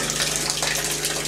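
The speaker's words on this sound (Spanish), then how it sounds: "Fue toda el agua que cayó." Water pours steadily from a tap in a continuous loud gush, a broad hissing splash with a faint hum beneath it, with no talking.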